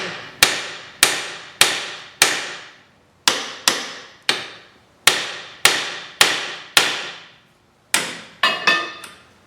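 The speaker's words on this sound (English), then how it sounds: "I usually will take a little ball peen hammer and tap the spindle or tap the bottom of the tie rod a little bit." A small ball peen hammer raps on a Chevy HHR steering spindle and tie rod end, about fourteen sharp metallic strikes in an uneven series, each ringing briefly, with a quicker cluster at the end.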